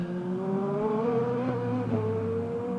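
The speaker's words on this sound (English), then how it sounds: "And one Porsche is right up the tailpipes of the number 8 of Di Grassi at the moment as they come through the final corner" Porsche hybrid endurance race cars power out of the final corner during the 2015 6 Hours of Shanghai, a steady close engine drone with rising pitched harmonics as they accelerate.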